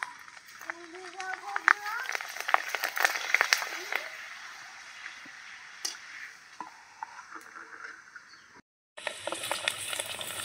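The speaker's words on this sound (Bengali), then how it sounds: "উনুনের জালটাকে কিন্তু আমি একদম আস্তে রেখেছি, তার জন্য কিন্তু এত সাদা সাদা করে পাঁপড়গুলোকে ভেজে নেওয়া যাচ্ছে।" Semolina papads frying in oil over a low flame, a soft steady sizzle with scattered crackles and pops, partly under a speaking voice, with a brief dropout near the end.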